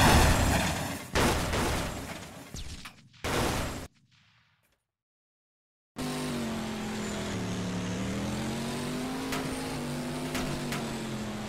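A loud, steady engine drone with a rising whine, preceded by sharp bursts and a short silence, from a car in the Roblox game.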